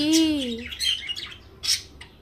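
Pet bird chirping and squawking close by, with a rising-falling call at the start, then sharp bursts of squawks and tweets over a short stretch.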